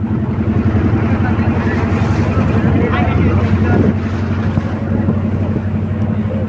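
A motor trawler's engine drones in a low, steady hum on a river crossing at Chandpur, Bangladesh, with wind buffeting the microphone throughout.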